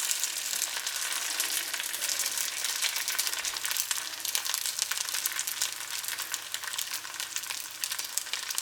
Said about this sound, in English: And add it into the hot oil.